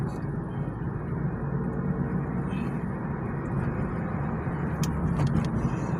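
A car driving along the road, a steady broadband road and engine rumble that holds evenly throughout without breaks.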